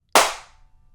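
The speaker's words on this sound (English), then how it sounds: "And here is the hand clap" One sharp hand clap snaps loud and close, then a short reverberant tail decays quickly into quiet, recorded as an impulse response for reverb.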